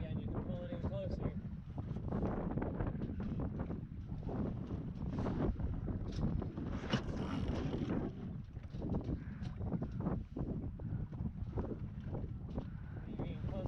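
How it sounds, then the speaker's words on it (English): Continuous rushing wind and water noise aboard a small sailboat steering into the wind, with the sail luffing and buffeting throughout, loud and close to the microphone. "See, now you stop it from luffing. Keep steering into the wind."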